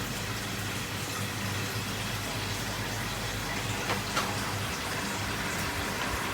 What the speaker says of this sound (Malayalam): ഇതിലേക്ക് വെള്ളം ഒഴിക്കാം കേട്ടോ